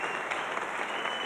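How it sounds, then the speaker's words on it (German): An audience applauds a singer after her song, a thick, continuous patter of many hands clapping at a steady, moderate level with no voices standing out. "Niki, das ist alles dein Applaus hier"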